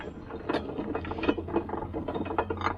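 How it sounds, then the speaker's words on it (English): An old Enterprise cast-iron hand grinder crushing dried corn, giving a steady rhythmic ratcheting crunch and grinding rattle with repeated scraping pulses, close and moderately loud with no talk. "This is an old Enterprise grinder, the kind they used to have in stores"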